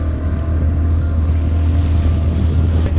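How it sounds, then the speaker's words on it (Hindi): A motorboat ride across Govind Sagar lake in Himachal, the hull cutting through water with a loud, steady engine drone and rushing water and wind noise throughout, no voices heard. "स्लोली हमारी राइड शुरू होती है और हम पानी को चीरते हुए आगे बढ़ते हैं।"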